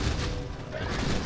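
Bomb explosions from gyrocopter attacks in a Warcraft 3 multiplayer match, a dense rumbling boom with continuous low-end blasts over roughly a second, loud and busy game audio without clear speech.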